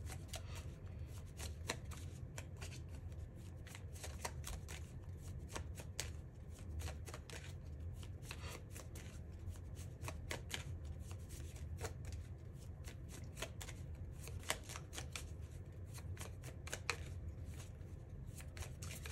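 Tarot cards being shuffled by hand in a continuous run of soft riffling flicks and papery slaps, steady and close throughout, with no talking.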